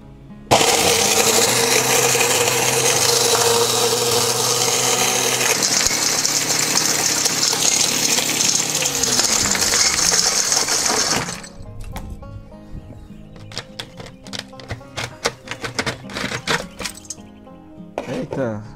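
A homemade shredder machine crushes broken roof tile with a loud, harsh grinding roar for about eleven seconds, then winds down into scattered rattles and clinks as the motor slows.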